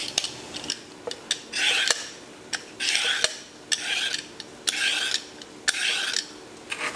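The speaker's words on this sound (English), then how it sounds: "We're gonna peel our potatoes and carrots." Repeated rasping scrapes of a peeler against potatoes and carrots come in steady strokes, with occasional light clicks, close by and fairly quiet.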